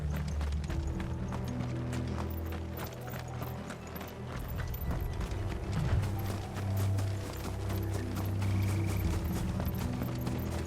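Horses galloping in Final Fantasy XVI, a steady, fast clip-clop of hooves running throughout, close and continuous with a low rumble underneath and no talk over it.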